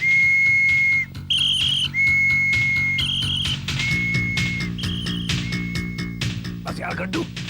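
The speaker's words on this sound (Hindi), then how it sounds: "तूने ये सीटी मुंह में रखी है" A whistle held in the mouth is blown in a series of about six short, shrill blasts, some alternating in pitch, close and loud, with voices talking in the background.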